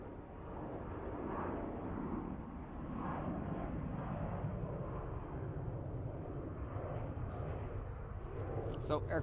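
An airliner taking off at Dublin Airport, its broad engine roar steady and fairly loud throughout, heard from a distance with no voices on top.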